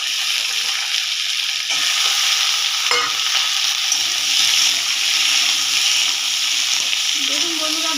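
Oil sizzles steadily in a pan as diced vegetables fry for a Bengali rohu fish curry with gandal leaves, with occasional stirring scrapes and a brief clatter near the middle; no one speaks.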